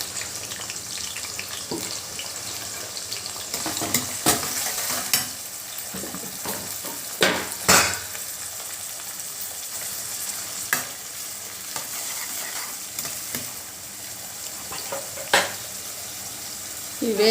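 Onions fry in oil in a wok for a Telugu gathi curry, a steady close sizzle running throughout with frequent scraping stirs and a few sharper clinks of the spoon against the pan.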